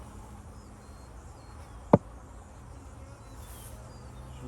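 Honey bees in an opened beehive at a cow pasture apiary give off a steady, low, diffuse hum, broken once by a single sharp click near the middle.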